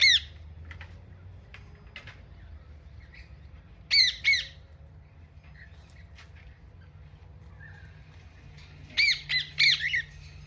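A crow gives harsh squawks in short clusters, at the start, in the middle and again near the end, over a low steady background hum.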